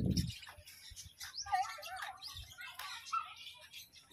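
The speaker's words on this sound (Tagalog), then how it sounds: "Oh, they are lovebirds." Lovebirds chirping at a farm in Thailand, a lively run of short tweets and warbling calls close by, with a brief thump at the start and soft background rustle.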